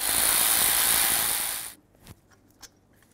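A power tool, most likely an impact wrench or drill, loosens the 18 mm brake caliper bracket bolts on a 2017-present Ford F-350 dually. It whirs loudly and steadily for about a second and a half, then stops, followed by a couple of faint metallic clicks.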